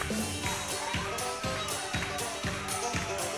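A wrestling crowd on its feet for the wrestler Uncle Earl at a DCW event, making steady roaring cheers with rhythmic clapping or stomping beats roughly twice a second, all under commentators' voices.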